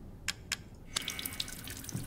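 Water runs from a tap in Resident Evil Village, a faint steady splashing stream preceded by a couple of crisp drips or clicks, quiet and close with no talking.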